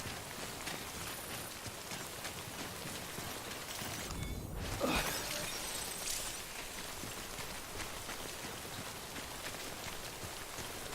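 Steady rain in the video game Death Stranding hisses continuously across the whole stretch, a dense even patter with a brief swell of louder noise midway through.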